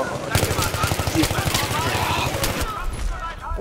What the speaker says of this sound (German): Die sprayen da einfach ihre 31 Schuss rein.